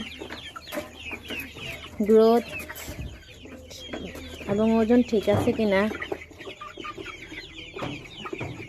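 Broiler chickens on a poultry farm, each weighing about 955 grams, cluck and squawk nearby in short bursts, with two louder flurries of calls. Someone talks over the birds.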